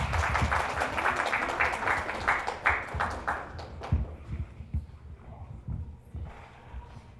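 Audience applause at a school concert for March 3, a dense burst of clapping that thins into scattered claps and fades out over several seconds.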